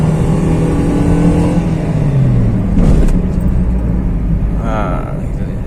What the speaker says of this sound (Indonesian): Ini gaspol nih.